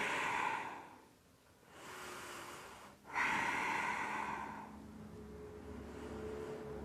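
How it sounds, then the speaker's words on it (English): Deep, steady breaths during a yoga practice in a bridge pose, heard as soft breathy rushes close to the mic: a long inhale, a brief pause, then a sharper breath followed by a sustained exhale, with no talking. "Breathing."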